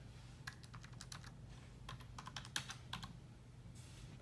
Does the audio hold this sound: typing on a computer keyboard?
yes